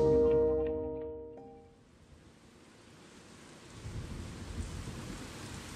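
A heavy thunderstorm: a deep rolling thunder rumble fades over the first seconds, then dense rain pours steadily and grows slightly heavier toward the end.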